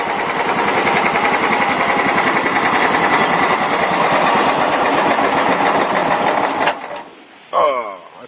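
An old John Deere engine runs steadily with a dense, rapid chugging rhythm close by, then cuts off abruptly near the end, leaving brief quiet and a short burst of other noise.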